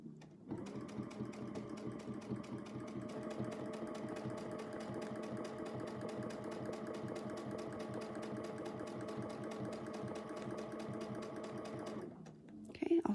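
Sewing machine stitching across a quilt in free-motion quilting; a fast, even run of needle strokes hums steadily for about eleven seconds and then stops, followed by a brief bump.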